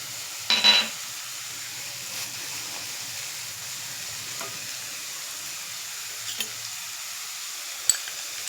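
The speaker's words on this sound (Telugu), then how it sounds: "ఇందులో ఇప్పుడు మనం పసుపు, సాల్ట్ వేస్తే కొంచెం తొందరగా ఫ్రై అయిపోతుంది" Egg gravy curry masala fries in a pan with turmeric and salt, a soft steady sizzle broken by a few brief stirring scrapes and clicks.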